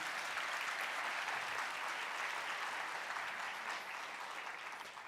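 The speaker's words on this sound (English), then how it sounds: "Can we give them a round of applause for our graduates who will celebrate this evening?" A nursing graduation audience gives a round of applause for the evening's graduates, steady crowd clapping at moderate level that eases slightly near the end.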